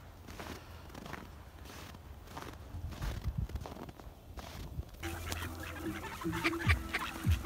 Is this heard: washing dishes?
no